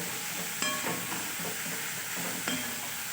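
Onions fry over a low-medium flame in a pan, giving a soft, continuous sizzle and hiss. A few sharp clicks of stirring cut through it, and no one speaks.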